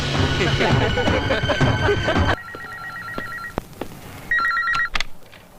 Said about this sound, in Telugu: ఫోన్ చేయవయ్యా రేణుగుంటకి.